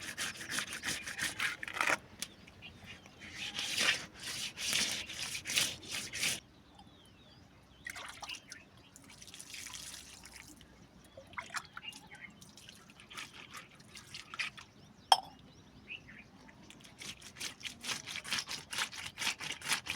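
Tilapia fish washed by hand in water make soft, intermittent splashes and drips, close and fairly quiet, with bursts of rubbing and sloshing and no talking.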